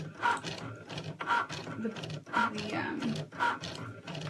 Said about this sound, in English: It's cutting, right now it's actually drawing on the, stitch lines for